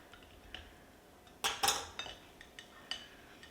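A knife cuts through the crisp fried wrapper of a Dollar Tree vegetable egg roll, giving a few close crackling crunches and short scraping clicks against a plate, clustered over a couple of seconds.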